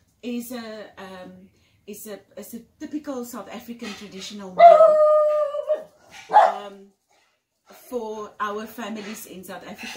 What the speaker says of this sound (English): that's my dog that was just barking.